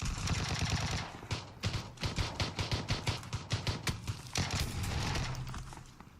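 Gunfire in the PUBG video game crackles in rapid automatic bursts and single shots, a dense run of sharp reports that thins out partway through and then comes back, with no talk over it.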